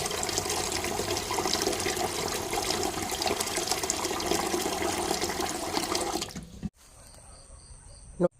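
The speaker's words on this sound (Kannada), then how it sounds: "ಸ್ವಲ್ಪ ನೀರನ್ನು ಆ್ಯಡ್ ಮಾಡಿ ಇದನ್ನು ತೆಳುವು ಮಾಡ್ತೇನೆ" Water pours steadily into a thick buttermilk mixture to thin it, a continuous close splashing stream lasting about six seconds before stopping abruptly, with no talk.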